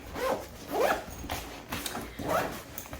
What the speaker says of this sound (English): Zipper up.